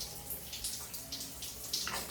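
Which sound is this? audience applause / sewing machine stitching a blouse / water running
water running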